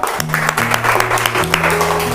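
Schoolchildren in a classroom clap together for a classmate, a brisk burst of applause lasting about two seconds over a background of steady music.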